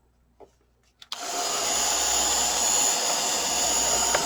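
A few small handling clicks, then a hair dryer or heat tool switches on abruptly and blows a loud, steady whooshing roar over collage paint, continuing unbroken to the end.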